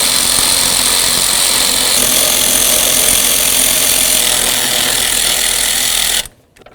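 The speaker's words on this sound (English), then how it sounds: "the next thing we want to do is start removing our mounting bolts" A power tool buzzes continuously and loudly close by for about six seconds, backing out the wiper motor mounting bolts on a 1994-2004 Chevy S-10, then cuts off abruptly to near silence.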